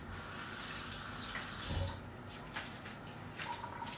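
Shrimp are rinsed under a running kitchen tap, and the water streams in a steady, fairly quiet hiss with a few splashes and drips. No voices are heard.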